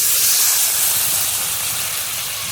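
Oil hisses and sizzles loudly and steadily in a pan of eggplant curry as water is poured in, with a broad, continuous spray of sound.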